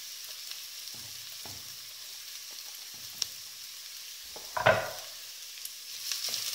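Chopped garlic and softened onions fry in a pan over a gas flame, a soft, steady sizzle broken by a few brief stirring scrapes, quiet and with no voices.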